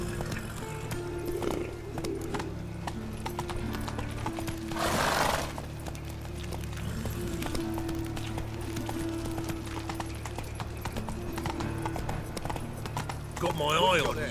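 A horse gallops in The Witcher 3, with rhythmic clip-clop hoofbeats and a brief whinny, heard close under game music and ambient noise, with speech mixed in.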